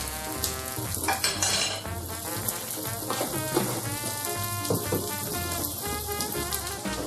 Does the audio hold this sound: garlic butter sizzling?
yes